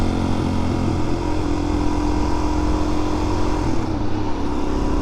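A Suzuki DRZ400SM motorcycle being ridden on the road in traffic, its engine droning steadily and loudly close by, with wind noise throughout and no talking.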